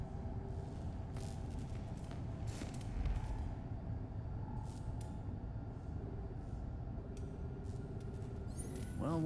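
A hidden door in a video game grinding and creaking open with a mechanical, rumbling drag, layered over low ambient drone and faint background sounds.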